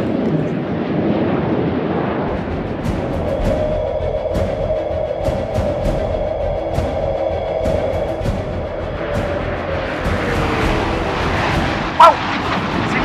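An artillery shell flies past: a steady droning whoosh with a low sustained tone, overlaid by faint repeating ticks, and ending in a brief sharp burst near the end.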